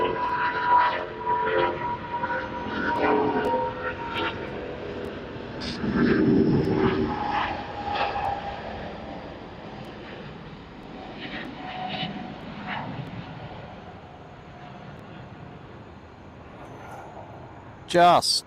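A Jetstar airplane takes off from runway 34 left at Sydney Airport, its engine roar steady and fairly loud, swelling and then slowly fading with distance while a radio voice talks over it.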